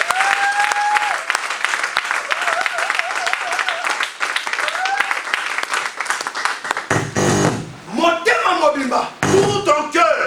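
Church congregation claps loudly and cheers in praise of the Lord, sustained applause with shouts and vocal exclamations throughout, joined by a musical tone early on.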